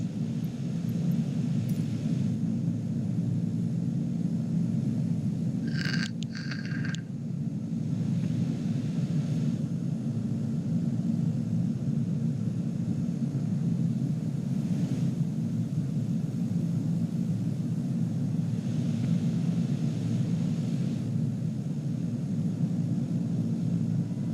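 An aircraft in Microsoft Flight Simulator 2020 holds a steady, loud low engine rumble and roar throughout, with a brief higher tonal chirp partway through.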